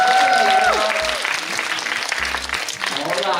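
A crowd claps warmly at the Hong Kong roadshow for the film Kung Fu Soccer, loud, close applause with a voice and brief tonal sounds over the opening moments.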